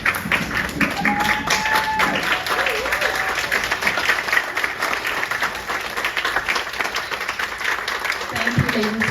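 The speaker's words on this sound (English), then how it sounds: "give the Imagine Science Ensemble a big hand of applause" Sustained audience applause for the Imagine Science Ensemble at a science and technology discovery centre launch in Malifa, a steady dense wash of clapping throughout with some crowd noise and brief voices mixed in.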